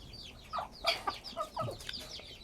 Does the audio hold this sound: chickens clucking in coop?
yes